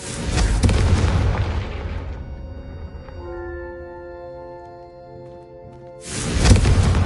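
A Confringo blasting spell in Hogwarts Legacy sets off a single loud explosion aimed at candelabras, with a rumbling boom and crackle that fade into a ringing, tonal decay, then a second burst of blast noise at the end.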